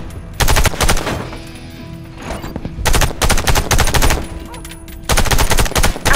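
Rapid automatic gunfire at targets in the shooter Warface, loud close bursts lasting about a second each, separated by short pauses with a faint hum between them.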